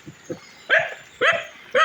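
A dog at a nature farm stay beside a pond gives three loud, evenly spaced barks, with a few softer short sounds before them.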